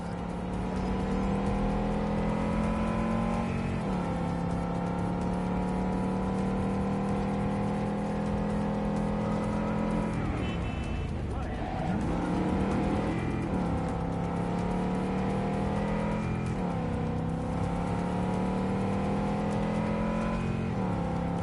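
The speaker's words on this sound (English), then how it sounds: "I did not pick the fastest car in this game." Steady car engine droning in Cyberpunk 2077, a sustained loud hum with occasional shifts in pitch as the vehicle accelerates and eases off, with no voices over it.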